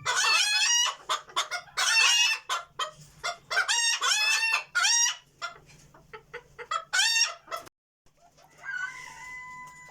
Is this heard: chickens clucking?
yes